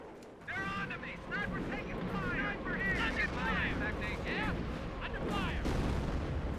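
Raketenwerfer rocket artillery fires in Company of Heroes with the Blitzkrieg mod, heavy booming blasts rolling under a dense battle din, with voices heard throughout.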